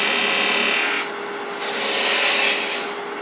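A wooden mallet handle being parted down on a lathe: a steady, close, continuous rasping scrape of tool on spinning wood, easing slightly after about a second and building again, with no voices.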